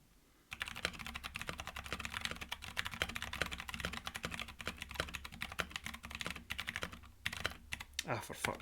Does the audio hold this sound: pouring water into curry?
no